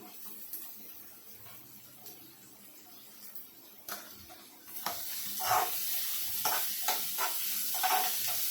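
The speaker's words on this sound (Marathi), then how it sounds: "माझं तेल तापलेलं होतं त्यामुळे लसूण भाजला गेलेला आहे आता मी कांदा टाकणार आहे" Chopped onion drops into hot oil with browned garlic in a pan for cabbage curry, setting off a bright, steady sizzle that swells midway and keeps hissing with light stirring scrapes.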